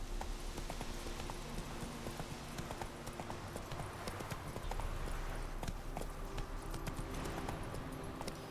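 Hooves of a galloping horse in The Witcher 3 video game pound out a fast, continuous clip-clop rhythm, close and steady throughout, with a faint voice briefly in the mix.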